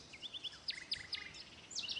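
A bird in the audio game Sonar Islands flies past, giving a string of short, high, sweeping chirps that come in quick bursts over a faint hiss, rising and falling in loudness as it passes.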